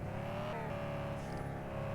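A BMW M3 in the mobile game Car Parking 3D drives at a steady engine drone, the tone climbing slightly and then holding as the car cruises, loud and continuous with no talking.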